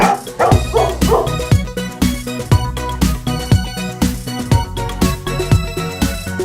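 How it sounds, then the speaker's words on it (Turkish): Repeated dog barks in a quick, regular rhythm, blended with loud upbeat music of a Turkish children's song. "köpek Hav hav işte on köpek"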